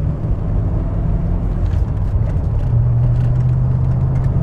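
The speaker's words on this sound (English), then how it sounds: "It goes through the gears very nicely." Manual-transmission car engine runs steadily with a low, even rumble and whir, holding a droning tone that rises slightly in pitch toward the end, close and continuous with no talking.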